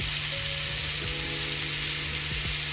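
A turned steak fries in a pan, a dense continuous sizzle with a low steady hum beneath, close and loud, no voices.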